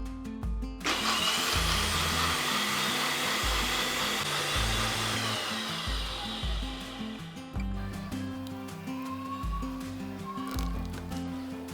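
An electric grinder whirs loudly as it grinds kasuri methi with a little water, the motor pulsing in repeated bursts with short pauses between them.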